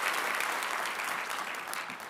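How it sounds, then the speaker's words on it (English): Audience applause at a mayor's military induction ceremony, a loud, dense burst of clapping from a full indoor crowd that continues steadily and fades slightly. "go ahead again and give them a round of applause"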